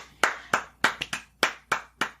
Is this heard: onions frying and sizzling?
no